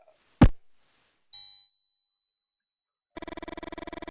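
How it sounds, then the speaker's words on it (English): In the Mothmen 1966 story game a single bell strikes with a ringing tone that fades, following a sharp hit, then a rapid rhythmic ringing starts and keeps going. "Suddenly the bell rings"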